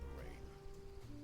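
Rain falling in the video game Duck Detective, a brief, quiet, steady hiss with faint tonal sounds layered over it.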